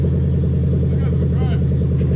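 A black 2007 Toyota Hilux Vigo 4x4 with a manual gearbox and a swapped-in 3UZ V8 engine, out on its first drive, holds a steady low engine rumble throughout while people talk over it.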